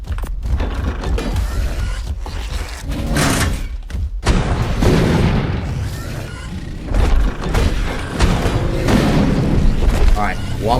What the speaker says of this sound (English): I'm gonna get a cannon ready.